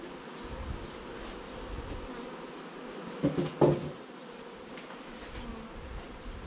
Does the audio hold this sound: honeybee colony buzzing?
yes